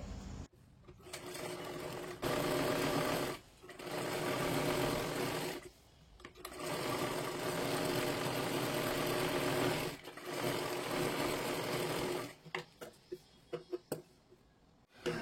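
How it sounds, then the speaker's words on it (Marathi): A sewing machine stitches a blouse sleeve in several steady, loud runs of rapid needle chatter, separated by brief pauses and ending in short, uneven bursts. "आता इथे पाठीमागच्या बाजूला सुद्धा दोन्ही बाजूंना आपल्याला व्यवस्थित शिलाई करून घ्यायची आहे"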